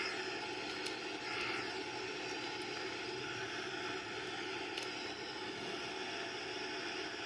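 Boeing 787 jet engines at maximum takeoff thrust heard from the flight deck, a steady broadband roar that holds evenly throughout with no voices.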